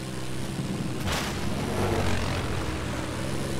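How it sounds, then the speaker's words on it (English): A helicopter flies in Battlefield 4, its steady rotor and engine drone holding continuous and fairly loud, with a brief swell of rushing noise partway through. "hey, that's a chopper"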